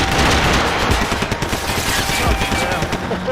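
Max Payne 3 shootout with loud, fast automatic gunfire rattling in rapid repeated bursts across the whole moment, close and sharp, with voices partly audible beneath.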